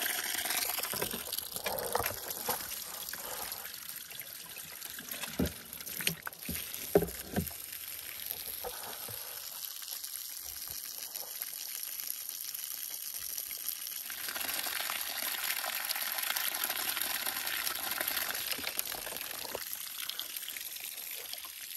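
Water runs and pours through a garden water system, a continuous liquid flow with gurgling and a few sharper knocks from handling nearby.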